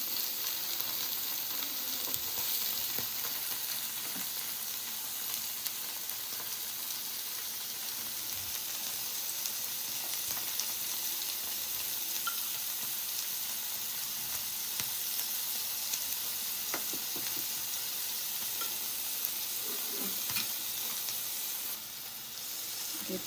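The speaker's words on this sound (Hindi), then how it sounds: "साथ में मैंने जो प्याज की स्लाइसेस काटी हैं उनको भी मैं तवे पे थोड़ा फ्राई कर दूँ।" Sliced onions fry on a tawa griddle with a constant bright sizzle and hiss, steady and close for the whole stretch, with only faint small clicks and no talking.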